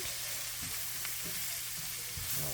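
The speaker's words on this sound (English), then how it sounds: "Let me go ahead and stir this around." Flour being stirred into a thickening mixture in a hot pan, a steady close sizzle with soft scraping strokes of the spoon repeating underneath.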